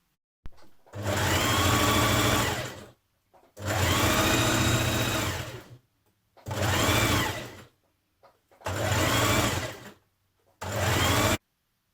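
A sewing machine stitches a 1 cm hem on a Burda 6240 summer dress in five loud, close bursts of steady motor whir, separated by short silent pauses.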